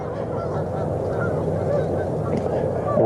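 Geese honk repeatedly in the middle distance over a steady outdoor background hum, with no clear voices.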